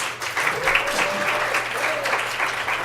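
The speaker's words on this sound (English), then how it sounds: "Give them a round of applause." Steady crowd applause, a sustained wash of clapping from many hands throughout with no one speaking.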